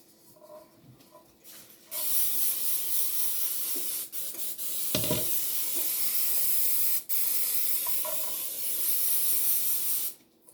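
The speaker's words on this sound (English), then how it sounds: "spray your pans really, really good so the cake just slides right out" A continuous aerosol cooking spray hissing in long bursts onto cake pans, close up, with brief pauses between sprays and no talking.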